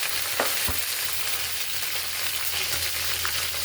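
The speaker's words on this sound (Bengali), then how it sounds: "মশলাটা একটু তেলের উপরে একটু ভাজা নেই" Spice paste of garlic and onion with turmeric sizzles and fries in hot oil in a kadai over a gas flame, a loud steady hiss with a couple of sharp stirring clicks.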